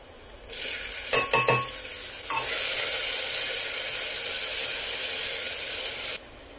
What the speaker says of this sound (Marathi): आता आपण घालून घेणार आहोत कांदे